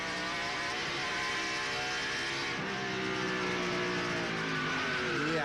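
A 1995 Pizza Plus 150 race truck driven by Mike Bliss spins out, captured onboard: a loud, steady engine roar with rising and falling harmonics as the truck rotates, continuous and close throughout.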